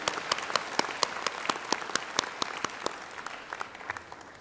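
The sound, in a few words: audience applause at graduation ceremony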